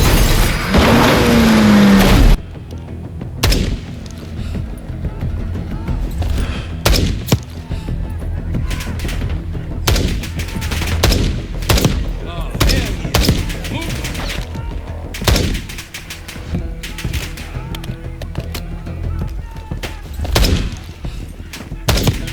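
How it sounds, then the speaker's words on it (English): Dense, loud Call of Duty Black Ops 6 combat: rapid gunfire bursts and heavy booming explosions pile up continuously, with a voice faintly under the din. "Players can hear rounds ricochet off nearby fixtures, explosions that will make the eardrums rumble"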